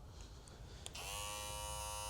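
A TPOB Go hair clipper switches on at its low 7,500 speed, and a steady close buzzing motor hum starts after a quiet moment and a faint click.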